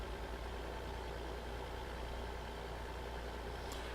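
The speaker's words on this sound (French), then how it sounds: "Et là, mon tracteur va plus vite." A tractor engine in the Farming Simulator 2015 game runs with a steady, even drone. The low hum holds constant without revving or gear changes, fairly quiet and uninterrupted, with no voices.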